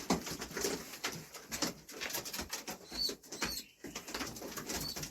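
Young grey tumbler pigeon flying with rapid wing flapping and soft coos among other birds, a faint, continuous fluttering texture with a brief quiet gap near the middle.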